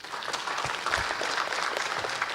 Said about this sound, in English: So I think maybe a round of applause once again to all the panelists here.